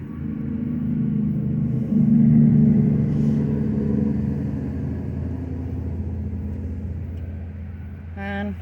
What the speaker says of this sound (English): I do apologize for the road noise.